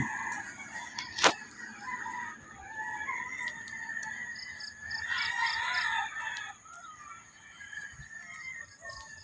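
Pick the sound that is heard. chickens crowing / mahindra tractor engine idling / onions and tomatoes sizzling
chickens crowing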